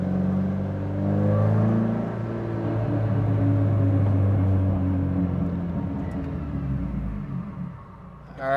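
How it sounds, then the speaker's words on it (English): Subaru WRX held against a 4,000 rpm valet-mode rev limiter, a steady loud engine drone sustained without climbing, easing off near the end. "I want to see what this 4K rev limit's like."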